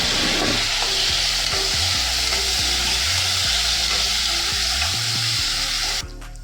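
Onions with ginger garlic paste frying in a pan, a steady loud sizzle throughout with occasional stirring scrapes, ending with a softer clatter.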